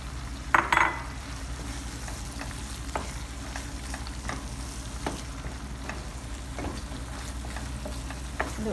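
Egg and tuna frying and being stirred in a pan for an eggplant omelette with tuna, with a steady close sizzle and a few sharp utensil clinks near the start.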